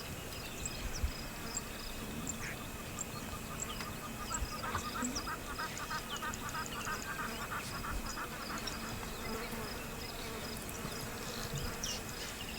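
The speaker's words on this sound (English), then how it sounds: "insects hovered all around them" Insects buzz steadily around a bachelor herd of giraffes out on an open plain, a faint, continuous whine with scattered bird calls over a low outdoor hum.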